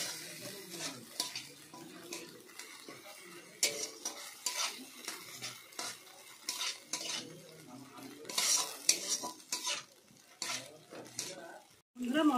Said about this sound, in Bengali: এবার এর মধ্যে ভেজে রাখা গোবিন্দভোগ চাল দিয়ে দিলাম, দিয়ে ভালোভাবে মশলার সঙ্গে মিশিয়ে নেব